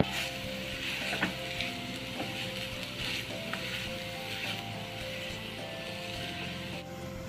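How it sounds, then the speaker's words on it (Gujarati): Momo filling of spices such as turmeric, coriander-cumin powder, chili flakes and garam masala sizzling in a pan, a continuous close frying hiss with occasional stirring clicks and scrapes and no talk. "આપણે મસાલાને 2-3 મિનિટ માટે કૂક થવા દેવાનો છે."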